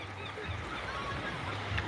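Geese-like birds honking on a beach, several nasal calls at the start, middle and end over steady outdoor wind and surf noise, moderately close.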